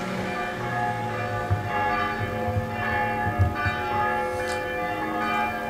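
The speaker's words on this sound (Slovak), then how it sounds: "Počujeme zvony" Church bells ring continuously in a steady, rich peal, with overlapping strikes and a lingering metallic hum heard clearly without any voices.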